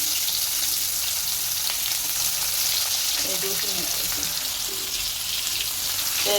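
Onions fry in hot oil in a home kitchen, after potatoes have been fried. A loud, steady hissing sizzle fills the whole stretch with a few stirring sounds and faint voices in the background.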